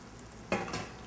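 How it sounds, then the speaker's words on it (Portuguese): Hot water poured into a pan of lentils during cooking, giving a sudden loud sizzling burst about halfway through that flares again briefly, then settles to a steady quiet hiss. "aqui na minha super chaleira, eu vou botar uma água quente na panela"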